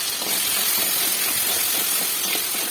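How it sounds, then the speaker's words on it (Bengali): Potatoes fry in a pan during a morning vegetarian banana-flower (mocha) and chickpea curry preparation, giving a steady, even broadband hiss and sizzle that runs throughout without breaks and with no talk over it. "এদিক দিয়ে আলুটা ভাজা হয়ে যাচ্ছে"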